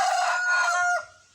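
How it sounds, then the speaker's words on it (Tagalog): Pet farm chickens, with a rooster crowing loudly and close by in one long drawn-out call that fades into soft clucks at the end. "yung aming mga manok sabay sila nag"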